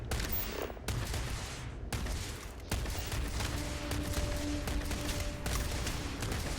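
Enemies firing guns in Starfield make a dense, continuous barrage of gunfire, with rapid bursts and cracks layered over one another and short gaps between volleys, heard at moderate distance.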